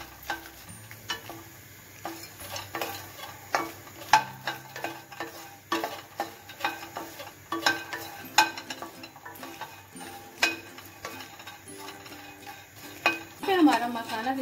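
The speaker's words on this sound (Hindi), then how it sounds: "इसको भी रोस्ट कर लेंगे।" Fox nuts (makhana) roast in leftover oil in a pan, with a soft sizzle under repeated scraping and clattering stirs of a spoon, steady throughout.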